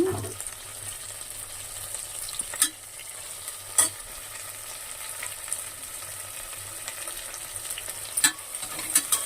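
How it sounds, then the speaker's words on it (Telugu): Ginger paste fries in a pan for spinach rice, giving a steady, even sizzle throughout with a few sharp clinks of a spoon against the pan. No voices. "చూడండి అల్లం పేస్ట్ కూడా బాగా ఫ్రై అయిపోయింది."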